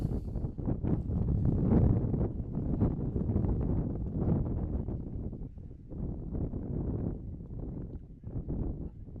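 Strong wind buffets a microphone outdoors at a cross country race, making a continuous loud low rumble and roar with no speech over it.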